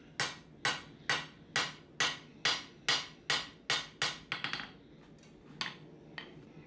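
A hammer strikes hot steel in rough beveling passes while a kitchen knife is forged, about ten evenly paced ringing blows followed by lighter, quicker taps and a few scattered strikes, close and clear.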